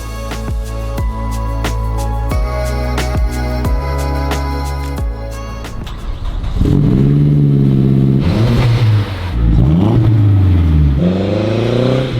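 A Mazdaspeed3 engine revs loudly and repeatedly up close, rising and falling in pitch, after a stretch of steadier idling.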